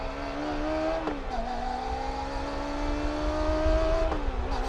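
A Kawasaki ZX-25R water-cooled four-cylinder 250cc motorcycle engine revs at a steady high pitch, dipping and rising twice as the throttle changes, heard at moderate distance without talk.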